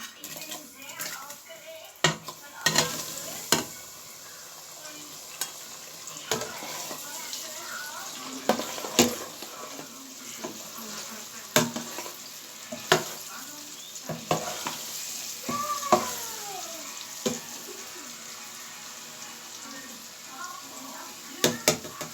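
Chin chin dough pieces fried in hot oil, a continuous sizzle and bubbling with sharp clinks and scrapes of a utensil, close, with a voice speaking at times.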